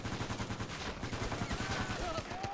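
Machine gun fire in the World War II game MOWAS 2 during the Battle of the Mariana Islands, fast rhythmic bursts of close, loud shots running continuously with a brief whistling tone near the end.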